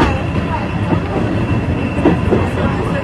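Train running along rails, a loud continuous rumble with faint rhythmic clatter of wheels, heard from close by and steady throughout, with some voices underneath.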